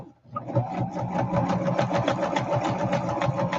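Sewing machine running a practice zigzag stitch while crafting a junk journal, a steady fast rhythmic whirring chatter of needle strokes that starts after a brief pause and runs loud and even throughout.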